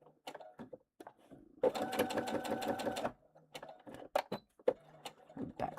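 A sewing machine stitches in one fast, steady burst of about a second and a half, close and clear, surrounded by scattered handling clicks and taps.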